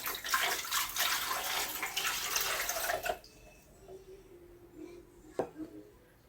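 Water poured into a blender with chopped onion for a carnitas sauce, a loud steady rushing splash for about three seconds that stops abruptly, followed by quiet with a few faint clinks.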